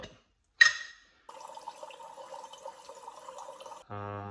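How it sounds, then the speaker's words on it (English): Water fills a container from a reverse osmosis machine set to 50 degrees, a light trickling stream running for a few seconds after a brief clatter, then ending with a tonal beep. "make sure we fill it up first with water"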